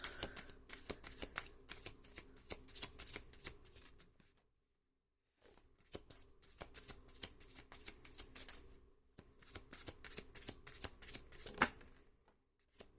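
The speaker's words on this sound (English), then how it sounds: "Page of Cups, 3 cards, please, for the Page of Cups." A tarot deck is shuffled close by in a long run of rapid riffling card flicks, broken by a brief silent pause before the shuffling resumes.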